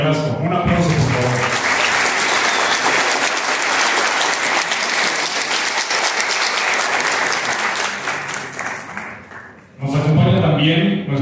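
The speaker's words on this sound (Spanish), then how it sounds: "Un aplauso, por favor." Loud, sustained applause from an audience at a formal university event, steady clapping lasting about nine seconds, with brief talk at the start and end.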